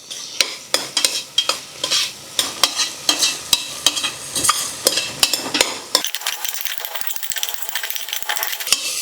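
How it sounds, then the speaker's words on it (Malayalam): A spoon stirs and scrapes chopped tomato and green chillies sautéing in a pan, with rhythmic clanking strokes over a steady sizzle that turns to a continuous frying hiss near the end. "നന്നായിട്ടൊന്ന് വഴറ്റി ഈ ടൊമാറ്റോയൊക്കെ നന്നായിട്ട് വെന്തുടഞ്ഞ് വരുന്നത് വരെ വഴറ്റി കൊടുക്കാം."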